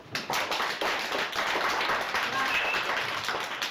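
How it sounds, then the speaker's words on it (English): Dense clapping from a class audience fills the whole stretch, steady and fairly loud, like a room of people applauding together after a student's story. "Can we give her a clap?"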